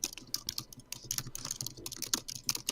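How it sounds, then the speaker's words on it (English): Frantic, rapid typing on a computer keyboard, a dense uneven patter of sharp key clicks at fairly close range, fairly quiet and with no voices. "Frantic typing."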